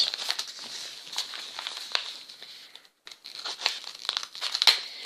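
Paper wrapping on an Advent calendar package being torn and crinkled open close up, a steady run of crisp rips and rustles with a brief pause midway, no talking.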